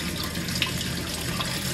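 Water trickles steadily through a fish breeding tank setup in a fish room, a continuous close splashing flow with faint drips and no voices.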